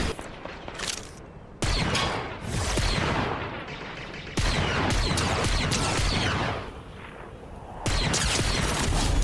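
Sustained bursts of gunfire and explosive booms in the Fortnite video game, dense and loud throughout with abrupt cuts between volleys.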